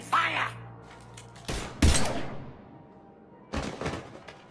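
A few heavy gunshots from Mass Effect 3, one broadband blast followed by a louder crack and, after a pause, another burst, each sharp and close, over a quiet background with a brief low hum at the start.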